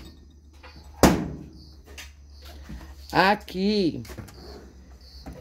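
A ranch kitchen drawer slides open with a sharp knock and a short scrape, close by, amid someone talking and a brief bird chirp.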